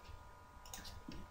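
Faint, quiet keyboard clicks from someone typing on a computer, a few brief taps clustered together over a steady low background hum.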